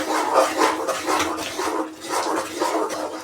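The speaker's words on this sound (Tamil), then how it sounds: "கையை மட்டும் கொடுக்காம கிண்டிகிட்டே இருக்கணும்" Thick Mysore pak mixture of gram flour, ghee and sugar stirred nonstop in a pan, a continuous scraping and swishing in repeated strokes, fairly loud and close, with no talking.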